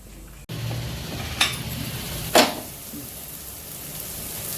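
Onions with salt and turmeric frying in a pan, a steady soft sizzle with two sharp scrapes of a spoon stirring through them, and no voices.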